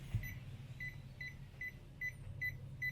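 A Minipa ET-1507B multimeter's non-contact voltage detector beeping near a live AC wire: seven short, evenly spaced high-pitched beeps over a low background hum.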